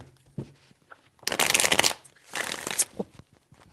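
Tarot cards riffled and shuffled by hand in two crisp bursts, close and clear, with a few quiet taps between them.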